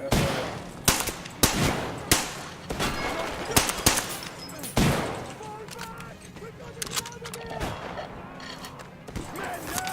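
Gun firing in Metro Exodus, a rapid string of sharp, loud shots in uneven bursts, with clanking and ambient rumble between them and no talk.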